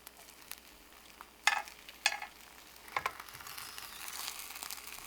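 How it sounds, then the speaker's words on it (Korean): Rolled egg omelette cooking in an oiled pan over low heat, giving a faint, soft sizzle with a few brief clatters and scrapes as the egg is poured and rolled, close and with no talk. "약불에서 기름을 바르고 달걀을 조금씩 부어가며 달걀말이를 만든다."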